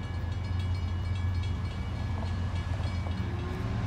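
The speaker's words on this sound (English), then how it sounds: "we have a train on the Brooklyn subdivision, and the gates are now dropping as we speak." A southbound Union Pacific train rumbles steadily at a railroad crossing on the Brooklyn subdivision while the gates drop, with a low continuous drone heard fairly close.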